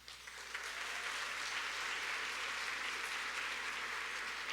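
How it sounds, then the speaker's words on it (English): Sustained applause from a large audience at the opening plenary of a training conference, a dense, even wash of clapping that swells in the first moment and holds steady throughout. "everyone, please give yourselves a round of applause"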